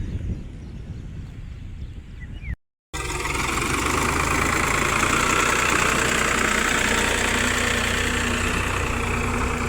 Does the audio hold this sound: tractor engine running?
yes